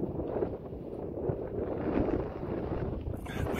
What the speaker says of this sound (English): That wind is cold out here, I'll tell you that.